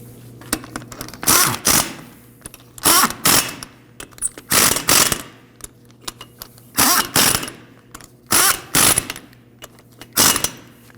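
Hand ratchet snugging the wheel nuts on a 1993-2001 Subaru Impreza, heard as repeated short bursts of fast clicking separated by pauses, close and clear over a low steady hum.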